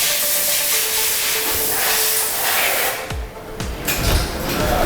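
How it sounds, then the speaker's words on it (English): Engine oil draining from a TVS Apache RR 310 motorcycle at its first service, a steady close hiss of flowing liquid with a few brief knocks and clanks toward the end. "First service and the oil being drained out."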